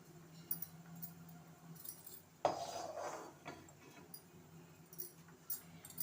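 Fried ingredients for a chutney are moved onto a plate with metal utensils, giving soft scraping and a sharp clink midway, followed by lighter rattles in a quiet kitchen.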